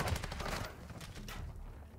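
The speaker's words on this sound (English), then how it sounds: "Oh my god, I got everybody shooting at me." Gunfire in Call of Duty Modern Warfare 2 on a close-quarters map, a rapid burst of shots in the first half second followed by a few more bursts, loud and close.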